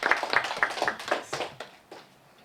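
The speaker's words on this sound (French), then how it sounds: "Applaudissez-moi pour ce monsieur-là" Scattered applause from a small audience at a conference on the origins of la Sape, a few hands clapping in an uneven patter that thins out and fades after about two seconds.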